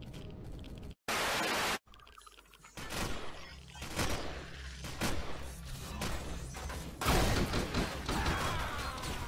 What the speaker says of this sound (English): I was apparently shot by the station